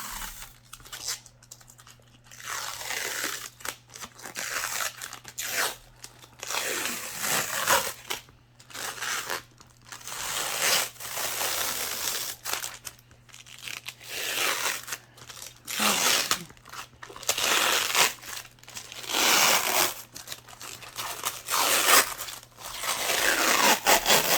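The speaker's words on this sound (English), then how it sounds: "I'm supposed to peel this off before turning it on." Protective film being peeled off a new A3 lightpad, soft crinkling and tearing bursts that come in uneven stretches with short pauses between them over a faint steady hum, close and fairly quiet.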